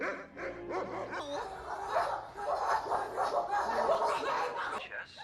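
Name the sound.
women imitating dog barking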